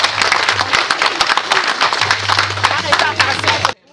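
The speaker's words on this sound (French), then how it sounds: "Applaudissez pour Régine." Guests applaud at a 60th birthday celebration with loud, steady clapping that keeps a lively rhythm for nearly four seconds, then stops abruptly, with some voices mixed into the noise.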